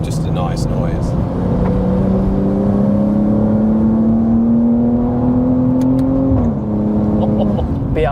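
A BMW G87 M2 Clubsport's engine and intake drone steadily from inside the car while driving, pitch slowly rising then dipping near the end, with a voice talking over it.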